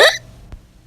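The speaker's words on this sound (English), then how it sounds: "We have hiccups." A single sharp hiccup comes out as a brief, loud vocal burst at the very start, followed by near silence and a faint low thump.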